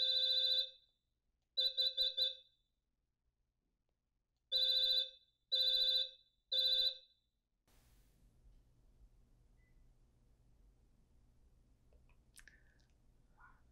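During a panel test, the sounder on a Qolsys IQ Panel 4 alarm panel gives loud, clear electronic beeps in short bursts, two then three, followed by quiet low background hum.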